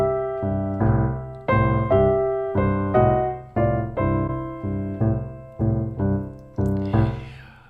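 Blues piano lick played alone on a solo piano, a steady run of about a dozen struck notes and chords, each ringing and decaying before the next, with one passing note between them, close and clear.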